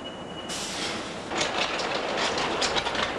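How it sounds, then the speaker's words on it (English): An automated concrete hopper bucket rolls along rails with a steady metallic rumble and clatter, with a sharp start at about a half second and growing louder after a second and a half, alone and fairly close. "The bucket travels upstairs on rails and automatically dumps its contents into a mixer."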